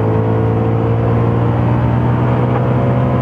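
An Audi engine drones loudly and steadily from close by on the Barcelona-Catalunya circuit, its tone holding firm under strong throttle in fourth gear, with no voices.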